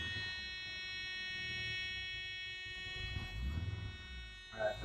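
Steady electronic low-coolant warning buzzer sounding inside a Mazda RX-7 FC Turbo II convertible, a faint continuous tone held throughout, with rumbling engine-bay and handling noise rising briefly near the end.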